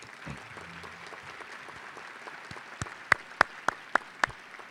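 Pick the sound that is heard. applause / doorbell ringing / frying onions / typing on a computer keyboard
applause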